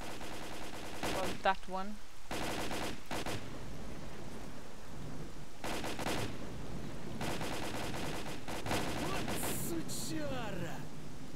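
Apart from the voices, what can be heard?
gunfire in video game, Pripyat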